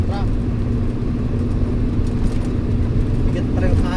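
A heavy cargo truck hauling a trailer load of tiles rolls past on the road, a steady low engine and tyre rumble holding throughout, with voices talking over it.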